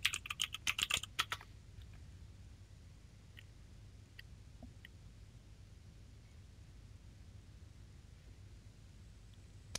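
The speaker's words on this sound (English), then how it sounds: "And I can type my question." A rapid burst of computer keyboard typing at the start, close and crisp, then sparse isolated key clicks over faint room hiss.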